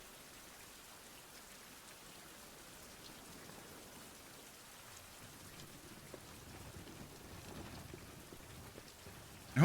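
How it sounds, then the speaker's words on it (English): Steady rain falls in a survival video game, a continuous broadband hiss of drops on surfaces that holds constant throughout and grows slightly denser toward the end, with no talking. "And hopefully it will stop raining."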